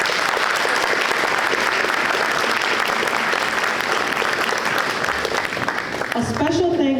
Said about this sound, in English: Let's give our educators and support staff a big round of applause.